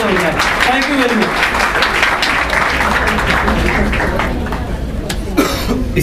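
A crowd applauds at a youth gathering with a motivational speaker, honoring the speakers and children: dense, steady clapping fills the room for about six seconds, with coughs and voices mixed in.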